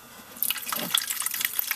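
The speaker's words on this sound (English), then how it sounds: "So we'll get that on and get this fuel drained out. Okay, so I've got the hose into a bucket here." Fuel drains from a Suzuki quad through a hose into a bucket, giving a close, steady trickle and splash of liquid with irregular dripping patter throughout, no talk.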